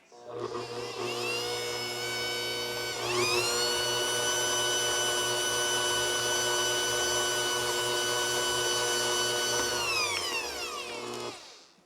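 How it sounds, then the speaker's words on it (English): An electric mixer creams butter and white sugar for almond cookies, giving a steady motor whine that rises in pitch after a few seconds, holds, then winds down and stops. "turn the mixer on, and cream those two ingredients together"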